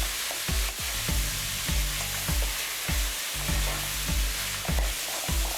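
Chopped tomatoes fry in hot oil with a steady sizzle, while a spoon mixes them in regular strokes, each stroke a soft scrape repeating about twice a second.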